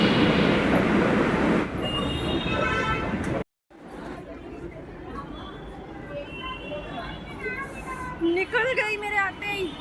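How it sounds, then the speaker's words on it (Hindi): A Delhi Metro train pulls out of the station with a loud rumble, squealing wheels and whining motors. After a brief dropout it fades to platform ambience, and someone talks over it. "आ ही रही थी बिल्कुल बिल्कुल मतलब बिल्कुल पास में आ गई थी और मेट्रो निकल गई यार"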